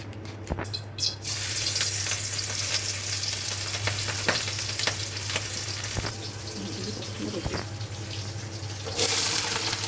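Garlic and onion frying in hot oil, a loud continuous crackling sizzle with a few scattered spoon knocks against the pan, close up and with no talk.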